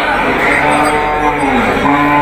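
A cow at a market selling HF and Jersey dairy cows moos loudly and close by, a long, sustained low call that fills the moment, with other livestock sounds in the background.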